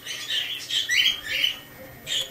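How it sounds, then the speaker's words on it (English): A bird squawks in a few loud, harsh bursts, each roughly half a second long with short gaps between, close by and sounding alone. "Bloody bird."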